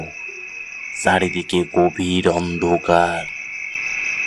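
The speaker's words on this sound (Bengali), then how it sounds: "চারিদিকে ঝিঝি পোকার আওয়াজ" A steady, high, shrill cricket drone runs throughout a horror-story scene set at a cremation ground at night, continuing beneath a narrating voice.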